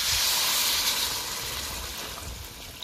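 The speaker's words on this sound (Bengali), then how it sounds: "এবার জল দিয়ে দেবো।" Water hits frying potatoes and spices in a pan for a potato and fish curry, giving a loud steamy hiss that slowly fades over a few seconds, close up and without talk.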